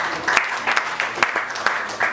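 Comedy club audience bursts into applause at a stand-up show, with several short waves of clapping that swell and fade in quick succession over faint crowd noise.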